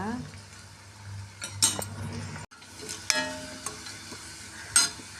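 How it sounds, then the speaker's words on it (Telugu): Onions frying in a pan for a ladies finger (okra) curry, a steady low sizzle running throughout, broken by a few sharp clinks and scrapes of a utensil stirring against the pan. "ఎర్రగడ్డలు బాగా వేగాలి అన్నమాట."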